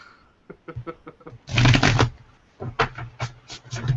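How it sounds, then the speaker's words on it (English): A deck of playing cards is shuffled in several bursts: light riffling flicks at first, then a dense, loud riffle lasting about half a second, followed by quick separate snaps and bridging flutters, close by with no talking. "as I shuffle"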